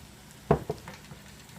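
Water is splashed into a pan of sizzling flour roux for red chile enchiladas, giving one sharp hissing burst followed by a smaller second spurt and a faint, fading sizzle, with no talking.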